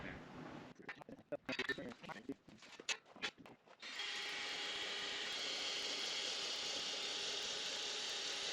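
A power drill bores a hole for mounting a screw hinge on a homestead gate, starting in bursts amid nearby talk, then running as a steady continuous whine for several seconds.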